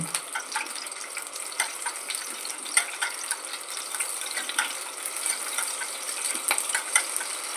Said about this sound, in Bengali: কাঁচা লঙ্কাগুলো আমি বেশ করে ভেজে নেব